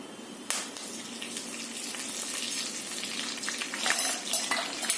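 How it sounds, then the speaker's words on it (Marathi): Curry leaves hit hot oil with peanuts for wheat kurmura chivada, giving a close, steady crackling sizzle with bursts of spattering and light stirring clinks. "आणि थोडेसे तळल्यानंतर त्यामध्ये कढीपत्ता घालायचा"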